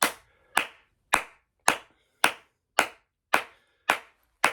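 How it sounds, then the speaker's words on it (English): Hands clap a steady rhythm during a body-percussion warm-up, nine crisp, evenly spaced claps about half a second apart, close and alone with no talk. "now we're going to clap out the same rhythm on the count of three"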